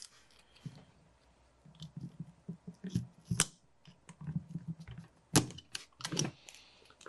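Close, sharp snips and clicks come in short irregular bursts with quiet gaps between them, scissors cutting something off a paintball gun.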